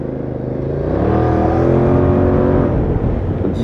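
A KYMCO AK 550 maxi-scooter with an aftermarket Akrapovic exhaust revs up with a throaty, rumbling exhaust note, rising and holding steady close by.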